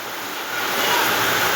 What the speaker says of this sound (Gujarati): અગાસીનું પાણી ભૂંગળામાંથી ભગ બબાટી બોલાવે